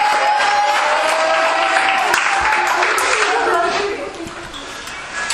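A crowd applauds a young player at a youth trophy ceremony, with loud continuous clapping, cheering and whoops in a lively room, plus children's voices mixed in, easing off slightly near the end.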